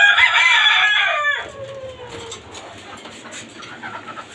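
Chickens and roosters kept in cages on a rooftop farm of Tiger-breed fowl; a loud, close rooster crow opens, then fades into quieter clucking and background farm noise.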